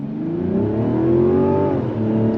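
A 2025 Mazda CX-70 SUV with an 8-speed automatic climbs a hill under steady throttle, its engine note rising smoothly and loud from inside the cabin before a gear change drops the pitch.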